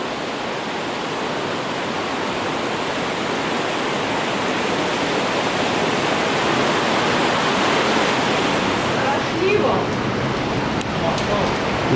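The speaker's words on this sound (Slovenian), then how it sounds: "Voda, koritnica dere tu pozmešana." The Koritnica river rushes through a narrow gorge below a bridge, a loud, unbroken roar of churning water that fills the whole stretch. No break is heard.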